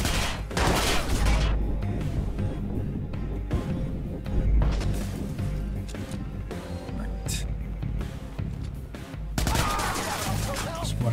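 Gunfire in the video game Watch Dogs: Bad Blood, a dense run of shots and bursts that keeps up loudly throughout, with heavier clusters near the start, middle and end over a busy game backdrop.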